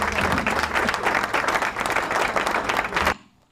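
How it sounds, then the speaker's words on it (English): A digital clap effect plays at a hypertension awareness programme at a primary healthcare centre, a loud, full burst of crowd-style applause that runs steadily and then cuts off abruptly, leaving near silence. "So there is even a digital clap."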